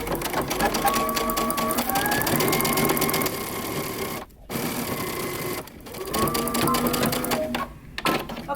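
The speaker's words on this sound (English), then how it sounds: "we're going to stitch this down using a 5/8 of an inch seam allowance" A sewing machine stitches a seam on a moto jacket, a rapid mechanical whirring run in steady bursts with two brief pauses, close and clear, with a faint voice underneath.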